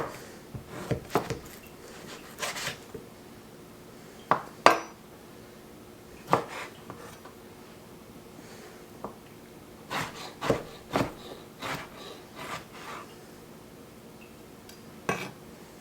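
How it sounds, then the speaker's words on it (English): Pork fat renders in a roasting pan over low heat while a utensil stirs it, giving scattered scraping and clinking taps against the pan amid a quiet background. "I'm going to be stirring it pretty regularly for this first part"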